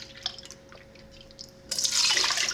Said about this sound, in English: now I'm gonna add 3 cups of vinegar and 3 cups of